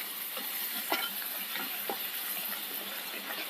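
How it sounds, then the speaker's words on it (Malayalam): A spoon scrapes and stirs white chickpea curry with its cooking water in a pan, giving a handful of soft, irregular strokes over a faint wet sizzle, with no talking. "നന്നായിട്ടൊന്ന് മിക്സ് ചെയ്യാം."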